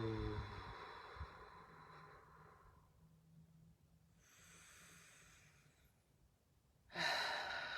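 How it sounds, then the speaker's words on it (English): A slow guided breath during a somatic bumblebee-breath exercise: a soft, drawn-out exhale hums low and faint for several seconds, followed by a quieter airy breath, then a louder breathy burst at the end. "We'll breathe together 3 times."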